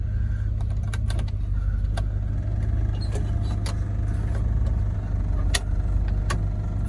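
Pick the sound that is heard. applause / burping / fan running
fan running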